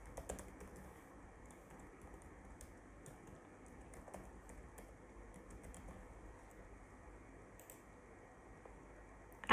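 An email address is typed on a computer keyboard as a faint, quick patter of soft key clicks over low room hiss, fairly steady throughout with a slightly louder click at the very end.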